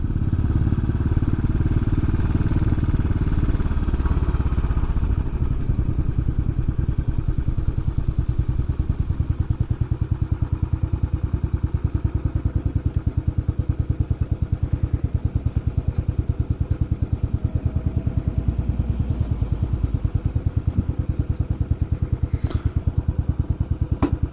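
A Royal Enfield 500 Classic Chrome motorcycle is ridden on the road from Salen to Tobermory on the Isle of Mull, its single-cylinder engine thumping in a loud, steady, continuous beat under wind rush.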